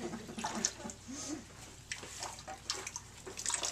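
A small child splashes and pours water in a kitchen sink, giving close, irregular sloshes, trickles and drips at a modest level with faint voices in the background.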